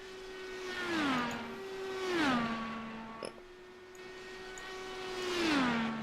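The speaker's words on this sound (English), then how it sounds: "Just listen to those cars just freaking fly around this track." Dallara race cars lapping the Dover oval in a racing simulation, three separate engine passes that swell and drop in pitch as each car roars by, with quieter steady engine drone between them.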